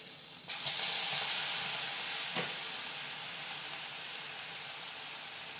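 Small peeled garlic cloves, thirty-odd of them, drop into hot oil and burst into a loud, steady sizzle that hisses on evenly and close by with no talk.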